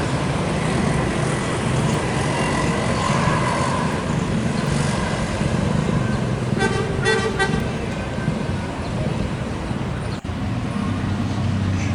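Steady traffic rumble from an ANS bus arriving at a terminal, with a short horn blast toots midway over the continuous engine noise.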